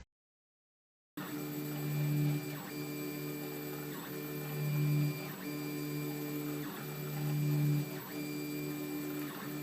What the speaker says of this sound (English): This printer's been running for about 19 minutes.